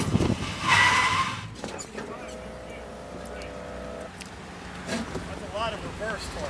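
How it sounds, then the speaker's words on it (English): Tesla Model S braking hard with a brief tire skid and squeal, followed by a steady tonal whine from the car under heavy regenerative braking while someone speaks over it. "We're going to check the braking capability."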